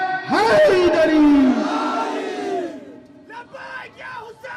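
A large crowd at a religious conference roars a loud, rising collective chant of Labbaik ya Hussain, then a shorter repeated call follows more faintly.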